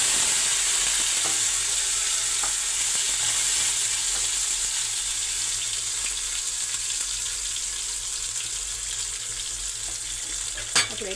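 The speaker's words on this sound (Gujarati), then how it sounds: "હવે એને મસ્ત એકદમ તળાવવા દઈશું. જો આપણે એકદમ મસ્ત એવી ગ્રેવી તળાય છે" Tomato gravy fries in a pan with cumin, giving a steady close sizzle that fills the whole stretch, with faint stirring scrapes and one sharp clink near the end, no talk.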